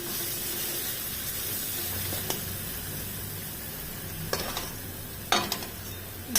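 Spice masala frying in oil for a boroli fish curry, a steady close sizzle and hiss with a few sharp spatula scrapes and knocks against the pan, no talking.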